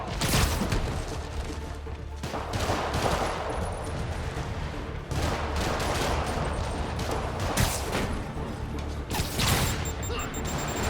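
Rockets firing and exploding in the PC action game Spider-Man Remastered: rapid volleys of whooshing launches and booming blasts with mechanical clatter, loud and continuous at close range, with no talking.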